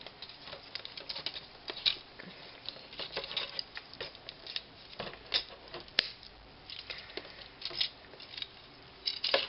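Plastic parts of a Transformers Generations Blurr toy are folded down and over, making many light, close clicks and ticking snaps in an uneven stream, with no talking.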